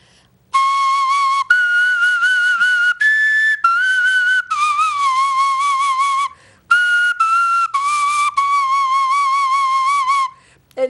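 Small recorder played solo, a bright, clear whistle-like tone moving through a series of sustained notes with short breaks, close and fairly loud.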